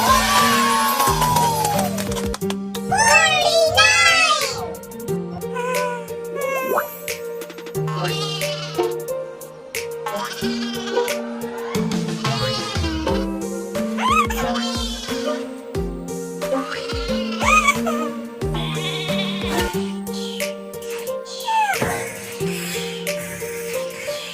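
Repeated sheep bleats rise and fall over a light musical backing, some overlapping, steady and fairly loud throughout.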